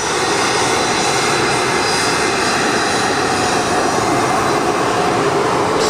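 Business jets taxiing at Luton airport, a loud, steady close-up jet engine roar with a high whine holding constant throughout, no voices.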